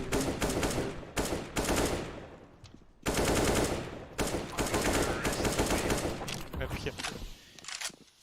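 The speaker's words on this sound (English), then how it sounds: "Busy him, shoot some bullets." Gunfire in a Counter-Strike or Valorant match: dense automatic bursts rattling in long runs with short breaks, loud and close, with a voice talking now and then over the game sounds.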